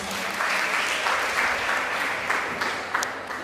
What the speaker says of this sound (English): If we could all give a round of applause.